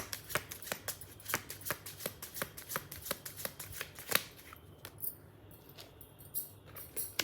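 A deck of tarot cards is shuffled and riffled close up in quick rhythmic bursts of crisp slaps, followed by softer sliding as cards are drawn.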